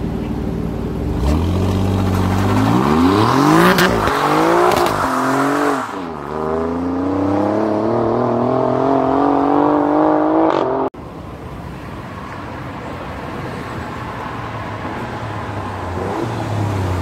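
An Alfa Romeo Giulia Quadrifoglio sedan with a 510 hp engine revs hard through rising gear pulls, the loud engine note climbing, dropping at shifts and settling into a steady drone on the road test.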